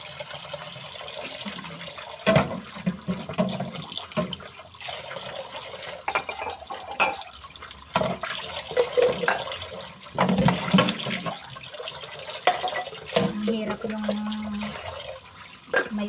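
Leftover dishes are washed by hand under a running kitchen tap, with steady water flow, splashes and occasional clinks of crockery throughout.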